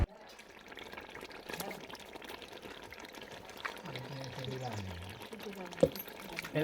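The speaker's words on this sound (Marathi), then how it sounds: "पाणी टाक सध्या थोडं, म्हणजे पाणी टाकल्यामुळे काय ग्रेव्ही लागतली नाही तडक" Water is poured into a simmering pan of gravy, a soft splashing pour heard under people talking nearby.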